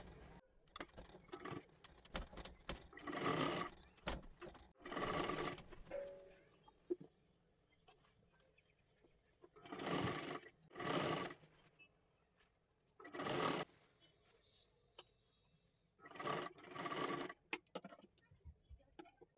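Sewing machine stitching around a lehenga dress made from a saree, several separate short bursts of running needle clatter with quiet handling noises between them, close by.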